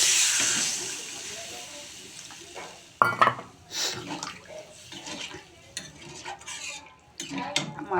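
Water poured into a hot pan of soya chunk curry sends up a hissing rush of steam at first, then gives way to stirring scrapes, clanks of pots and utensils and bubbling.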